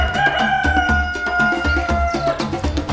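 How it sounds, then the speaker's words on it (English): A rooster crows loudly and close by in a long, drawn-out call, with clucking hens around it and steady chicken noise through the whole stretch, with no talk. "The male chicken is called okoba. That's the one that crows in the morning."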